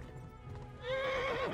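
A horse gallops in the Kingdom Come: Deliverance video game, with quick hoofbeats followed by a loud, rising and falling whinny close up.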